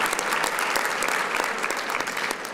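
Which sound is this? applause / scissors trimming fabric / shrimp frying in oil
applause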